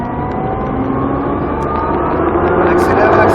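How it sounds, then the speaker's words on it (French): A race car accelerates hard around the Croix-en-Ternois circuit, its engine roaring and climbing steadily in pitch, loud and close, under continuous talking. "Filet de gaz, on accélère, on accélère, on accélère, on accélère"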